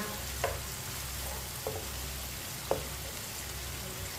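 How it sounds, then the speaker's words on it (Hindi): Potato and eggplant sabzi sizzles steadily in a pan, a constant close frying hiss with a few faint clinks and scrapes of a spoon stirring, and no talk. "इसी तरह चम्मच चलाते हुए पकाना, जलने नहीं देना।"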